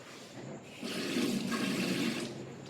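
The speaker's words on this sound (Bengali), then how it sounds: "হাতটা ধুয়ে নিই," Tap water runs steadily for hand washing indoors, a broad even splashing stream rising after a quiet start and holding at moderate level with no talk over it.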